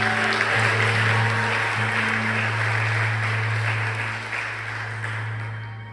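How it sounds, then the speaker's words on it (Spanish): Congregational applause at a church service in San Salvador, El Salvador, a loud dense burst of clapping over a sustained low hum that gradually tapers off. "Denle un aplauso a Dios."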